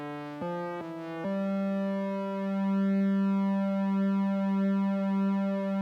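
Sustained electronic Omnichord OM-84 chord tones through a chorus and vibrato pedal, a few quick chord changes at the start, then one held chord with a gentle wavering shimmer, steady and clear.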